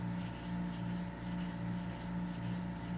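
Scissor shear being honed back and forth on a Wolff convexing clamp block, a steady rhythmic rasping rub that pulses with each stroke, close and continuous.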